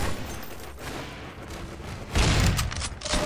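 Counter-Strike: Source deathmatch gunfire, a burst of rapid shots crackling over a busy game background, with a louder cluster of fire near the end.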